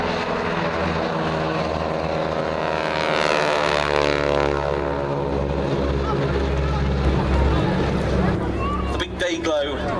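A former West German Air Force target-towing plane runs its engine at the Duxford air show, a loud continuous propeller drone whose pitch slowly shifts, with a commentator talking over it throughout.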